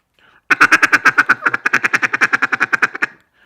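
A machine gun feeder call blown on a duck call: a rapid, even burst of about twenty-five loud, close staccato notes lasting roughly two and a half seconds, played alone.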